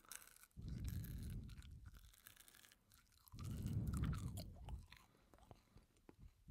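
Gum being chewed up close, with moist crunchy mastication in two loud bursts separated by a quieter pause, then softer chewing trailing off.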